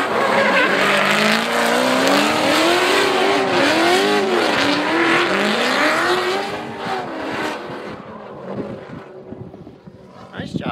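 A drift car transitions through tire smoke during pre-season drift testing, its engine loudly rising and falling with screeching tire squeal, then fading to a lower, rougher rumble in the final seconds.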